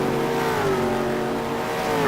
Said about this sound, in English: Cars come through the right-hander at turn 2